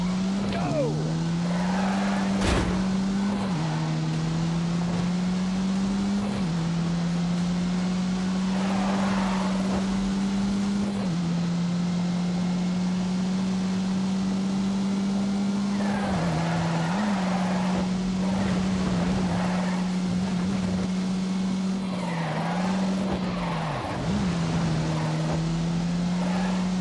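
A lightweight car's engine howls at full throttle, its strong steady note rising and dropping sharply at each gear change, loud and continuous throughout with short bursts of road and wind noise.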